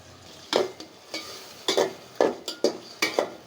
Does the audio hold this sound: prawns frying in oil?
yes